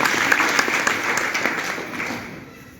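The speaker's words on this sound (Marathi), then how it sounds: "तुमच्याबद्दलही टाळ्या मोठ्या" A kirtan audience in a village mandal hall breaks into loud, sustained clapping from many hands, steady at first and then thinning and fading toward the end, with no speech over it.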